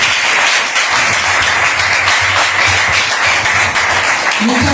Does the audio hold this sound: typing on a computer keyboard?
no